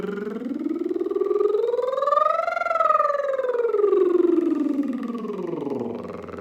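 Lip trill vocal warm-up carried on pitch, a buzzing voiced flutter that glides smoothly upward to a peak and then slides back down in one continuous sweep, close and fairly loud with no talking.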